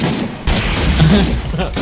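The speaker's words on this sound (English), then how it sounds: "I shot her fucking cannon with an RPG." An RPG blast strikes a ship's cannon during a modded Minecraft pirate ship battle, a loud booming explosion and rumbling gunfire that fill the short stretch with dense, sustained noise, with a voice faintly mixed in.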